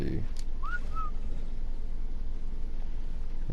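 Two-note rising whistle command in the game Ark Survival Evolved, short and clear over steady background hiss.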